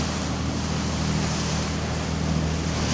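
Steady engine drone and water rush from a 47-foot Carver motor yacht, BMW edition, cruising on the open Gulf of Mexico, with wind noise on the microphone, constant and loud throughout, no talk.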